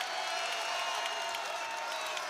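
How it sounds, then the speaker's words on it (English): Crowd noise fills the Xfinity Center basketball arena during a Vermont at Maryland men's game, a steady, fairly distant roar with faint clapping mixed in. "Listen to the Xfinity Center crowd"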